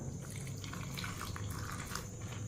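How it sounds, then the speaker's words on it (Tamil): A little water is poured into ragi recipe ingredients with dal, salt and tamarind, giving a faint, close, continuous trickle and splash. "தண்ணி கொஞ்சம் ஊற்றிக்கிடுவோம்."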